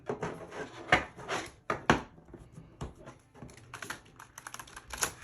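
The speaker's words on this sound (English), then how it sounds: "we're gonna go ahead and shuffle them some more." An oversized deck of tarot cards is shuffled overhand by hand, giving close, irregular bursts of riffling, tapping card clicks and rustles with no speech.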